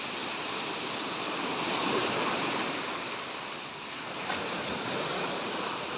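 Sea waves wash onto a beach in the morning, a steady, loud surf roar with gentle swells in intensity and no voices over it.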